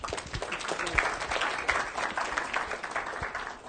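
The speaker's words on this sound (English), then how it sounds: "Thank you, Dimitrios and David, for starting the clap." Audience applause at a neuroscience symposium talk, a dense, steady wash of many hands clapping across the whole stretch, moderately loud and unbroken.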